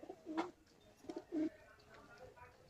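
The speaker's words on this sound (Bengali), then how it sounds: "দেখুন পায়রাগুলো" Domestic pigeons in a home coop on a winter morning give a few soft, throaty coos in short bursts, close by and fairly quiet against a calm background.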